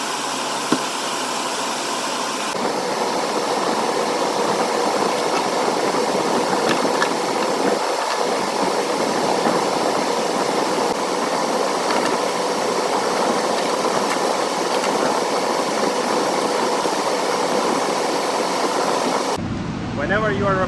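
A Genesis 5.0 V8 held in a steady, loud power pull on a dyno, a continuous dense engine roar that barely changes for most of the run before cutting off abruptly near the end.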